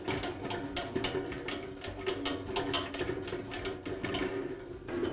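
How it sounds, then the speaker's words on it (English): Rapid ratcheting clicks from loosening the blade tension on a Jet band saw, a dense mechanical rattle that runs steadily at close range without pause or speech. "I'll loosen the tension on the blade"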